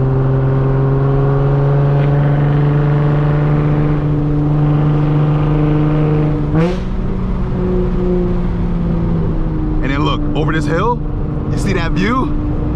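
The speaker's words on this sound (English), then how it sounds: "My car is loud, so I'm going down this hill" A loud Nissan Z with a misfire drones steadily while driving downhill, its engine note dipping slightly partway through. Brief voices come in near the end.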